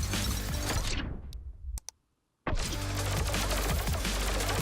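Dense, continuous shooting effects in the arcade shooter Swarmlake, loud and busy, dropping into near silence with a few faint clicks before the barrage resumes.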